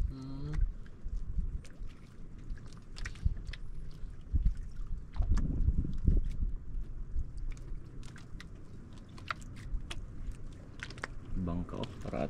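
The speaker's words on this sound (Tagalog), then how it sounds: "Bangka oh, parating oh." A bangka fishing boat draws nearer on open water, its low motor rumble rising and falling under steady wind buffeting and voices talking nearby.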